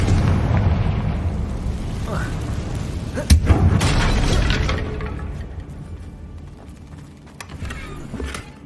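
In the Hogwarts Legacy game, a Confringo blasting spell strikes with a sudden loud boom followed by rumbling debris and creaking that fades over several seconds, under game music and a brief voice.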